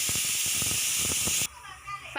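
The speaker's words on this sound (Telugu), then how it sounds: "ఇప్పుడు కుక్కర్ విజిల్స్ కూడా అయిపోయింది కదా 5." A pressure cooker whistles while cooking gongura mutton curry, giving a loud, continuous steam hiss with talking underneath that cuts off abruptly partway through.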